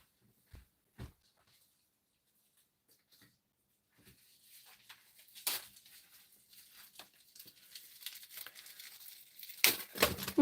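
Plastic packaging on a craft supply item being torn and crinkled open, quiet at first with a few isolated taps, then building into louder bursts of rustling and ripping close to the microphone, with no talk.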